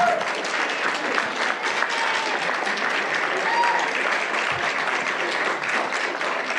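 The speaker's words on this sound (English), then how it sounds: "If we could have a round of applause for all of our speakers," Campus audience at Rutgers gives the evening's speakers a sustained round of applause, steady dense clapping throughout with a faint voice or two underneath.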